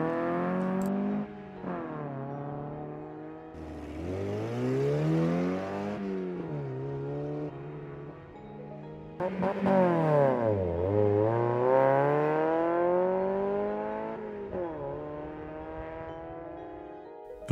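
Mazda Miatas accelerating on an autocross course, engines rising and falling in pitch through repeated gear shifts and corners, fairly loud and close with no talk.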